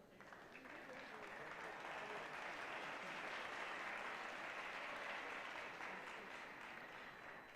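Convocation audience applauding MD psychiatry graduates at a ceremony, a dense, sustained round of clapping that swells and holds steady throughout.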